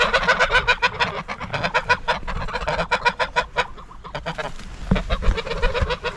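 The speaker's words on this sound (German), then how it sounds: "Die Gänse meckern da zu Recht drüber." Geese honking near a waterway, a rapid, loud run of nasal honks from several birds close by, thinning briefly before another burst.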